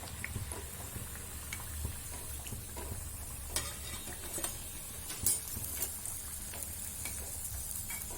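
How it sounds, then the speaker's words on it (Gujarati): Farali vadas deep frying in hot oil give a steady, even sizzle and crackle through the whole stretch, with a few sharper pops and faint utensil taps, and no voices over it. "આ રીતે બધા જ વડાને આપણે તળી લેવાના છે"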